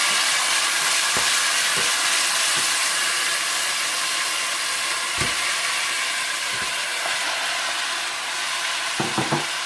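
Chicken with ginger and garlic sizzling in onions in a pan while making Sindhi biryani, a steady close hiss of frying with a few soft clunks of stirring, no voices.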